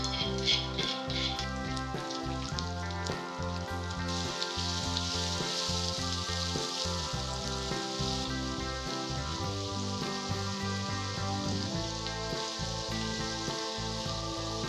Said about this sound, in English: You start by sizzling the whole spices along with garlic ginger paste